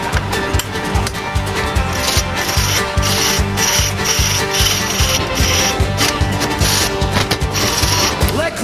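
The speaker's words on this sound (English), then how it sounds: "Clean the broken piece of cast iron." Broken cast iron piece being cleaned, a loud continuous scraping and rubbing grind, close up, with rhythmic strokes throughout.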